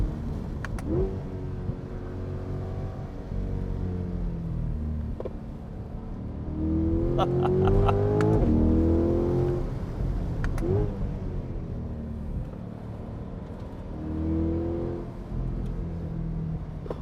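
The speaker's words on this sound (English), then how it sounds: "It's got these like punchy upshifts." Chevrolet C8 Corvette accelerating in the canyons from inside the cabin, engine pitch climbing through several gears with sharp, punchy upshifts marked by quick breaks, the engine note loud and close.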